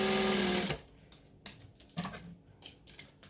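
Sewing machine chain stitching a fabric seam for a Minx sewing pattern, a loud, close, rapid whirring run lasting under a second, then cutting off to near quiet with only faint scattered clicks and handling taps.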